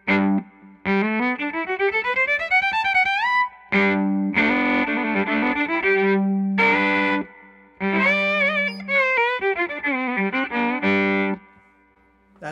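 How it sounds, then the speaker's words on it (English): A violin played through a Mesa Boogie Studio 22 amp on the clean channel, with sustained bowed notes and rising slides in several phrases separated by short pauses, loud and up close. "Here's the sound of my violin through the amp."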